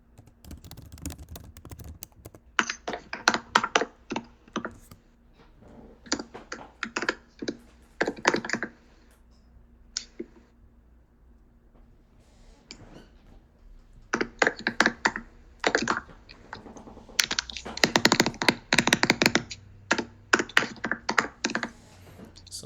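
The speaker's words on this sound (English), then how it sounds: "So someone's got their mechanical keyboard up." Clacking keystrokes on a mechanical keyboard, coming in irregular bursts of rapid typing separated by short quiet gaps, fairly close and crisp over a faint steady hum.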